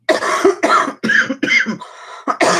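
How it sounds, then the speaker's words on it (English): A person coughs in a rapid series of about six close, harsh bursts with short gaps between them, loud and alone, during a livestream by someone recovering from bronchitis. "I got a cough, guys."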